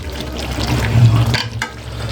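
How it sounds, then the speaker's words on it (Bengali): Chicken pieces are stirred and sautéed in a pan for potato chicken curry, giving a soft continuous sizzle with scraping stirring strokes, close and moderately loud, ending in a brief clatter. "মাংস কষানো হয়ে গেছে, কষানো হচ্ছে, সুন্দর কালার আসছে"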